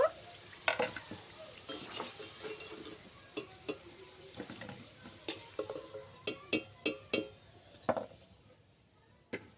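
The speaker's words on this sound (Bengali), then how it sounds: "বাকিগুলো দিয়ে একইভাবে ভেজে নেব" Crisp pea-filled kachori fry in hot oil with a steady low sizzle, broken by a string of sharp metallic clinks and scrapes from a utensil stirring and turning them in the pan, close and fairly quiet.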